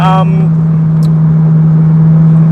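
A Ferrari 360 Spider with gated manual gearbox and upgraded ECU, cruising in second gear at about 3,000 RPM, a loud steady low engine hum heard from inside the car, with a brief voice at the start.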